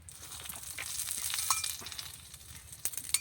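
A paratha fries in white oil in a pan, a close hissing sizzle that swells and fades with scattered crackles and light utensil taps, no one speaking.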